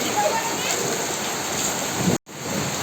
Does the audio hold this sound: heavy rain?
yes